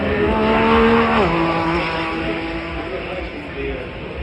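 A Lamborghini Revuelto supercar with over 1,100 horsepower drives past at the Goodwood Festival of Speed, its loud engine note rising and then dropping in pitch as it passes close by, heard over crowd noise and a commentator's voice.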